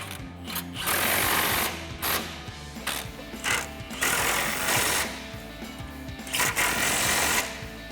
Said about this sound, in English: we're just going to use the same impact and 18mm socket with an extension. Go ahead and tighten those down.